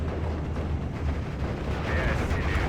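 Air-attack explosions in a WWII strategy video game form a dense, continuous roar of booming blasts and rumbling fire, loud and unbroken throughout.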